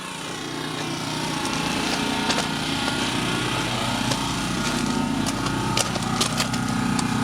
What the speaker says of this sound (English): It's gonna be loud over here because of generators.